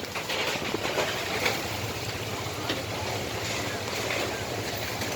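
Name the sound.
whirlwind with strong wind and rain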